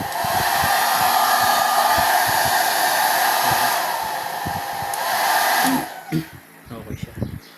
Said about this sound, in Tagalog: Naksakan ko ito yung blower.